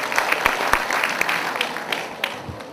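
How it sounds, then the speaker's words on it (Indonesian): Audience applause at an Indonesian financial planning expo, a burst of many hands clapping with distinct sharp claps standing out, loud and close, with faint voices mixed in. "Di sini siapa yang tepuk tangan dong buat kita semua?"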